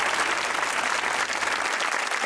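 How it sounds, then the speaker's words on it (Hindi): Studio audience applause on a Pakistani comedy game show, a thick wash of clapping from many people held at constant loudness throughout the brief stretch. "तालियां होनी चाहिए सर के लिए।"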